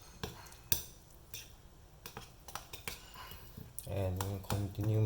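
A utensil clinks and scrapes against a bowl in irregular taps while roasted aubergine is mixed and mashed with tahini for baba ghanoush, close and fairly quiet, with a voice starting to speak near the end.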